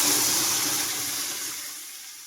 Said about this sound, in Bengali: সেদ্ধ করে রাখা ডালটা না আমি ঢেলে দেবো এবার।